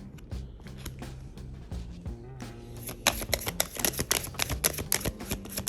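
Tarot cards are shuffled with a soft riffling flutter, then quick sharp snapping flicks, close and fairly quiet over a low hum.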